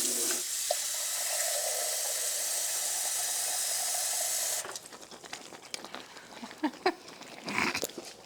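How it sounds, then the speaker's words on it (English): Water runs steadily into a pot while collard greens are being cooked gumbo style, a continuous rushing stream for about four and a half seconds that then stops, leaving clattering kitchen noises. "I want to put just a little bit more water, I think,"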